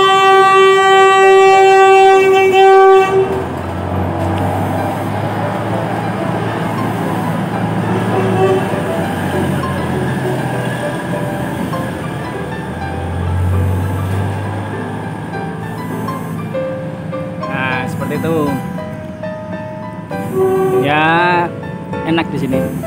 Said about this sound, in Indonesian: di sini ada kereta lewat